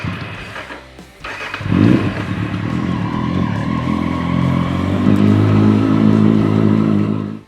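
A KTM Duke 400 motorcycle engine starts up and revs, a loud, steady throaty drone with rising and falling revs held close by for several seconds before cutting off.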